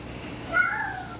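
A house cat gives a single short, rising meow, close and clear over a quiet room.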